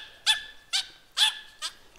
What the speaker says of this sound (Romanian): Bă, le latră pe toate!